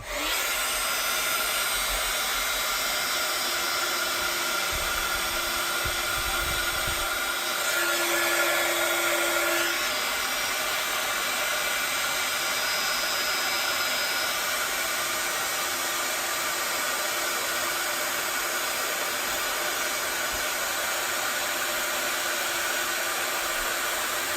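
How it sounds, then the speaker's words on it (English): A steady, loud whirring heat tool blower heat-setting embossing ink runs continuously throughout, with a slight shift in pitch partway through. "I'm going to heat set again, so it's going to be noisy"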